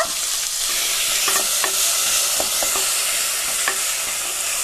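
Cumin and onion fry in a pan for bitter gourd palya, a loud close, continuous sizzle with scattered sharp scrapes and taps of a spoon stirring, and no voices.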